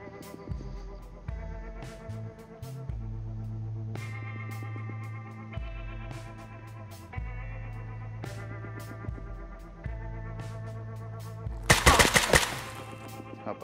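Gunfire in the video game Escape From Tarkov crackles in sharp bursts and single shots over a tonal game background, ending with a loud, dense volley close by.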